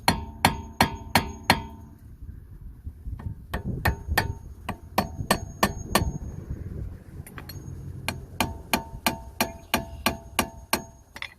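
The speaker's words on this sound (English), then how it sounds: "You're going to need a hammer to kind of tap it loose" Repeated metallic hammer strikes on a car brake caliper ring out in quick bursts with short pauses between, loud and close, with no talking.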